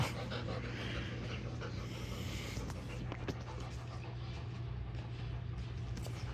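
Dogs pant close by in quick, rhythmic breaths, a steady huffing that runs throughout over low background hum, with a few faint squeaks mixed in.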